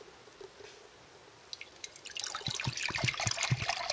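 Water pours into a camping kettle, starting as faint drips and building into a busy, splashing trickle that grows louder and fuller toward the end, with no one talking.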